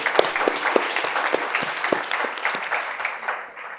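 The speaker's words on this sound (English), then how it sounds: "let's have a round of applause for them." An audience at a live awards event breaks into steady, dense clapping that carries loudly and evenly throughout, with no voices over it.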